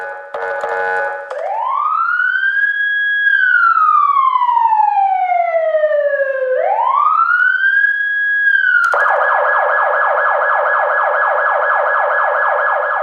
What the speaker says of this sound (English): Man, I love those sirens. Those sirens are great.